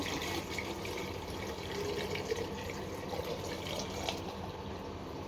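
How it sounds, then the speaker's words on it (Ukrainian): Cold purified water pours in a steady, continuous stream into a jar for pickling cucumbers, filling it without pause for several seconds, with no voices. "Зараз заливаю холодною водою."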